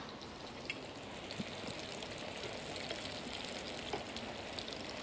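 Potato kofta, shaped by hand and coated in breadcrumbs, fry in hot oil with a steady, dense crackle and sizzle that holds an even level throughout, broken by small pops.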